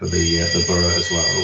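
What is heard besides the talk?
home fire alarm going off during weekly test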